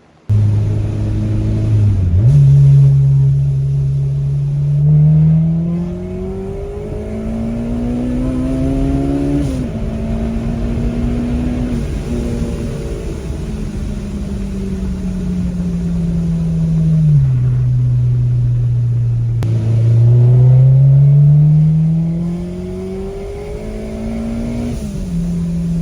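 Engine of a K-swapped Mini Cooper on test pulls, loud and close, climbing through the revs in long rising sweeps, dropping back as it shifts, then building up again.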